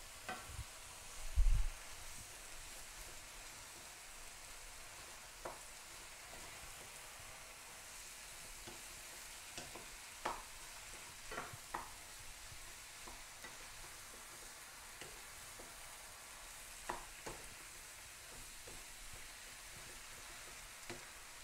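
Mushrooms being stirred in a hot frying pan for a rice pasta dish, a steady soft sizzle with scattered scraping clicks of the utensil and one louder knock near the start, no talk.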